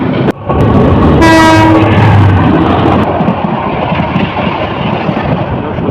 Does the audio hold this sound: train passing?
yes